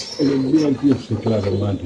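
Pigeons coo at a crowded pigeon farm, several soft, throaty calls rising and falling close by while someone talks over them.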